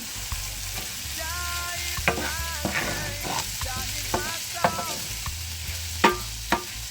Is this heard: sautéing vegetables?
yes